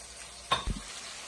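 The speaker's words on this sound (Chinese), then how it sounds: "把煎好的荷包蛋也倒在里面，然后把准备好的料汁全部倒在锅中" Fried eggs and a prepared sauce tipped into a wok of stir-fried tofu, giving a short stirring scrape and a quick burst of sizzle, then a soft thud, all brief and close with no talking.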